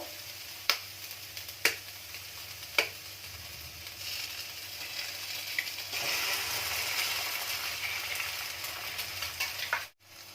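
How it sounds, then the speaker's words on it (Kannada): Two beaten eggs frying on low flame in a pan for egg bhurji: a few sharp spatula taps against the pan, then a soft, steady sizzle that swells and continues until a sudden cut at the end. "ಈಗ 2 ಮೊಟ್ಟೆನ ಈ ರೀತಿಯಾಗಿ ಹೊಡ್ಕೊಂಡು ಈ ರೀತಿಯಾಗಿ ಫ್ರೈ ಮಾಡ್ಕೋಬೇಕು"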